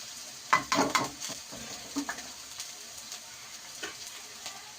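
Onion and vegetables for a broccoli chicken rice dish are stirred in a hot pan: a soft sizzle under several quick scraping strokes, louder at first, then lighter stirs trailing off.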